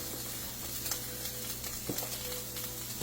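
Flour is stirred into a hot pan after beef has been seared, a soft continuous sizzle with light scraping strokes from the stirring, fairly quiet and close with no speech.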